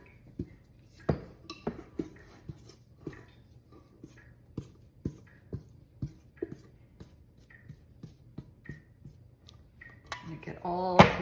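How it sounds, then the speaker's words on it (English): Pumpkin roll dough is scraped out of a bowl and kneaded, with sharp taps and scrapes of a utensil against the bowl repeating irregularly, and a louder rustle of handling the dough at the very end. "Get as much dough out of this bowl as I can."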